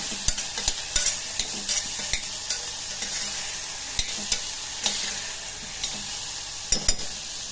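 Bitter gourd gojju sizzling in a pan while a utensil stirs it, with a steady frying hiss broken by repeated sharp scrapes and taps of the spoon against the pan.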